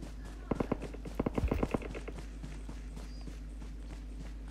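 Rapid bursts of video-game gunfire in PUBG, quick clattering shots in short clusters, fairly faint and compressed, with a few isolated reports trailing off.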